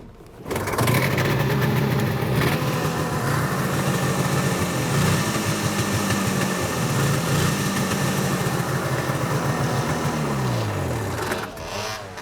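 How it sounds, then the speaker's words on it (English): Race car engine running roughly as if on two cylinders, a loud, continuous uneven idle with lumpy pulsing and shifting tones, close up, dying away near the end. "It runs. Don't know how well it's gonna run, but it's running, and it kind of feels like it's on 2 cylinders"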